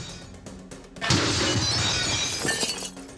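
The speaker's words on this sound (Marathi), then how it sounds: "बॉटल फुटल्यानं रस्त्यावर बिअरचा पूर." A loud burst of shattering glass as many beer bottles from a truck break at once on a road, the crash lingering with clinking fragments and a second smaller smash near the end.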